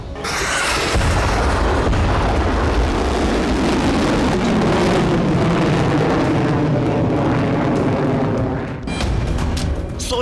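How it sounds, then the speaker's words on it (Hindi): A DRDO long-range hypersonic missile launching on a test: a loud, sudden blast that becomes a sustained roaring rush for several seconds, then dips briefly near the end. No one speaks. "DRDO ने long range hypersonic missile test किया।"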